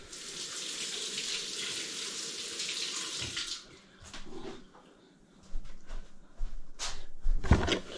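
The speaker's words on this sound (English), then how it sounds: "Let me just wash this thing." Water runs from a tap as something is washed under it, a steady rushing that stops after a few seconds, followed by scattered clinks and handling clatter near the sink.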